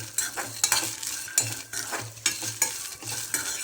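Mixed vegetables are roasted and stirred in a pan, with a soft sizzle under repeated scraping strokes of a spoon that come in an uneven rhythm, close and fairly loud, with no talking.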